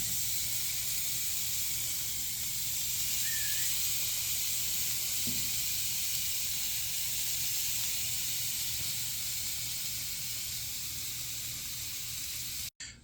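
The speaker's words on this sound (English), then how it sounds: "Let's see if we can hear that sizzle." Angus burger patties seasoned with salt, pepper and garlic sizzle on a charcoal grill, a steady close hiss continuing evenly throughout with no talk.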